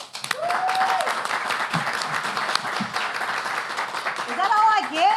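Audience applause at a chamber legislative luncheon, a steady sustained clapping from a large crowd with a faint whistle and brief voices rising near the end.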